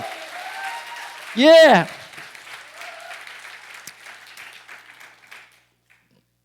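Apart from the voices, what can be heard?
congregation applause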